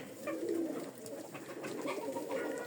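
Several domestic pigeons coo in overlapping low, rolling phrases at close range, kept alongside chickens, with a steady murmur continuing throughout.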